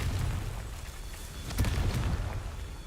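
A Confringo blasting spell explosion in a video game, a loud deep burst that rises sharply and rumbles for about a second over an ongoing background hum.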